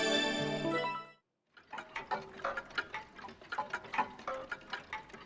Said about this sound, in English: I met my morning with continuous sounds of many clocks in the room.